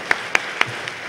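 A few slow, sparse claps from a conference audience after a talk introduction, four distinct hand claps spaced evenly and fading, thin and nearby rather than a full ovation.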